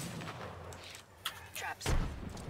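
A frag grenade explodes in a combat video game as a single heavy, loud low boom near the end, after a stretch of muffled gunfire and game noise.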